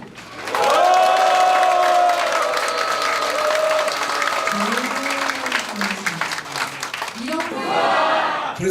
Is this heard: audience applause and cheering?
yes